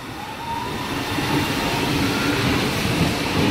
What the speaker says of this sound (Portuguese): vou aproveitar e gravar o trem série 2000 saindo